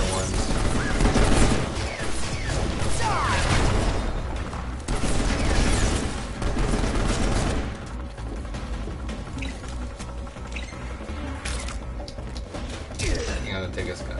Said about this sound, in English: I'm just gonna try and do more crack shots to see if he does any different ones